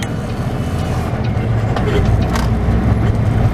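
Flatbed truck driving across a narrow bridge, a continuous loud engine and road rumble from inside the cab, steady with a slight rise toward the end.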